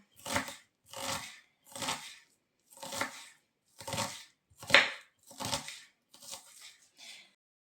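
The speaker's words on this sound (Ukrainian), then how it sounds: "Так, ріжемо цибульку. Міленько, меленько." Onion chopped finely with a knife on a board: about nine separate rhythmic bursts of crisp cutting, evenly spaced with short pauses, close and fairly quiet, no talk.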